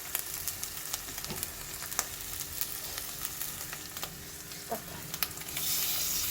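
Hand-crushed tomatoes frying in a pan for a lady's finger chilli curry, giving a steady, close sizzle with a few light clicks of a spoon and no talking.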